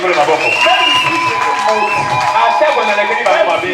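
A church congregation acclaims the Lord with loud, continuous cheering, whooping and shouting voices filling the whole stretch at close range.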